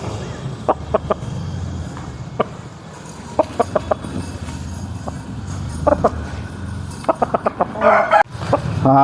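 Pala Abrash rooster, a big double-bodied Bhimavaram bird, clucks in repeated sharp bursts and crows loudly near the end, close by over a steady farmyard background.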